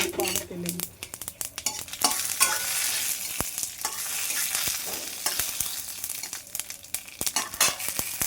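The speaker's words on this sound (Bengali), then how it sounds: "এখন আমি কড়াইতে সামান্য তেল দিয়েছি, আর এখন শুকনো লঙ্কা আর সর্ষেটা সম্বার দিয়ে দেবো।" Dried red chillies and mustard seeds tempering in a little hot oil in a kadai for tomato chutney, a dense crackling sizzle with sharp popping spatters and occasional stirring clinks, close and steady throughout.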